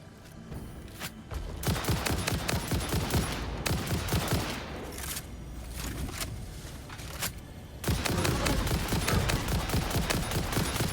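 Rapid gunfire from the video game Satisfactory, dense bursts of automatic shots that pause briefly and then resume, loud and close, with no talking.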